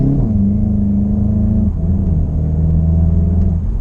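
A front-wheel-drive Volkswagen Golf pulling away under acceleration, its engine a loud, steady droning hum heard from inside the car, with the pitch dipping and resettling midway as it changes gear.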